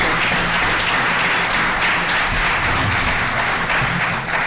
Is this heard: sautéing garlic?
no